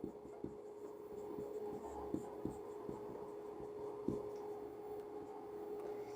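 Pen scratching across paper while a physics question on projectile motion is written out, faint irregular scrapes and taps at close range over a low steady hum, with no talking.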